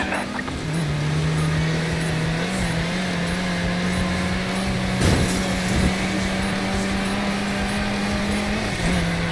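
A modified car racing through city streets in Midnight Club LA Complete Edition, a steady droning engine note held at high revs, loud and continuous, with a brief whoosh of another vehicle passing midway and a faint tire or wind hiss underneath.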